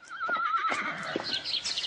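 A horse whinnies loudly and close by, a long wavering neigh that rises and trembles before trailing off.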